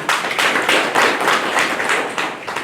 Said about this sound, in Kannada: ಅವರಿಗೆ ಜೋರಾಗಿ ಚಪ್ಪಾಳೆ ತರ್ತಾರೆ